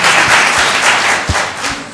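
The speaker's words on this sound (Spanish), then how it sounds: "el aplaudir no ofenda a nadie" An audience in a town council hall applauds during an extraordinary council session, a loud, dense, continuous burst of clapping from many hands with no voices over it.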